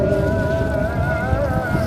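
Wind buffets an outdoor microphone with a constant low rumbling roar, close and loud, over a faint steady mechanical tone, with no talking.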